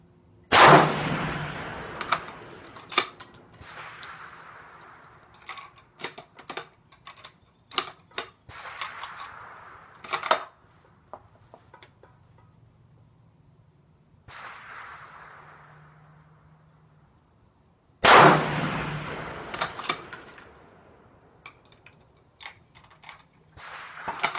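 Sniper rifle and DMR, including a 6.5 Creedmoor, fired at targets on a range: sharp, loud reports come in irregular bursts, several shots within seconds, with a gap before another strong volley near the end.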